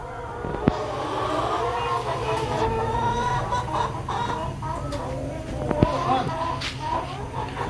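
Farm hens cluck and squawk at a poultry market in Malaysia, a busy, noisy setting with a steady hum of crowd chatter and a couple of sharp knocks.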